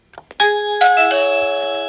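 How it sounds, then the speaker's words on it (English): A bright electronic doorbell chime rings out, a few quick clicks followed by a sustained multi-tone ding that lingers and slowly fades. "so we need to press the doorbell button"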